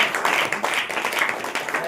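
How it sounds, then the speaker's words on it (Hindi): A congregation at a church service claps hands in a quick, steady rhythm, with a voice speaking over the clapping. "ताली बजाकर"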